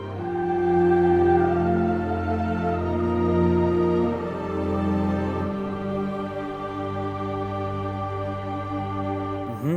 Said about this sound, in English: I have an entire choir of just female voices.